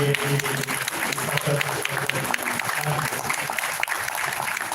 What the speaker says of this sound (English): Another round of applause for Secretary Honorable Minister of Industry, Investment and Commerce